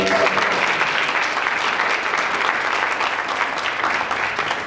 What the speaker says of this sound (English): Let's just give a round of applause for that.